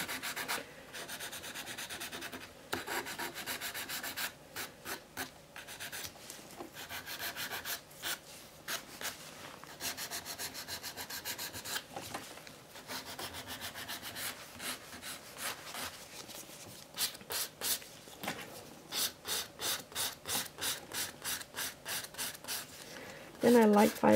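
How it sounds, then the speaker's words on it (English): Repeated rasping strokes of a file shaping an acrylic nail into an almond tip, quick dry scratches in uneven bursts, close and fairly quiet with faint breathing. "I always start filing the shape of the nail."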